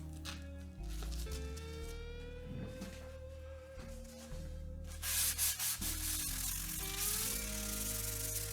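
Sandpaper of 320 grit rubs across a guitar body in soft, close strokes, a quiet breathy scratching that swells and fades with each pass over a faint background hum.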